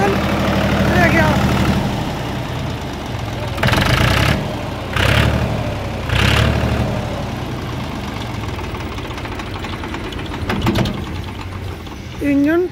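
A Mahindra diesel generator set with its original alternator and AVR runs steadily, a loud, close, continuous mechanical engine drone with intermittent bursts where a voice speaks over it.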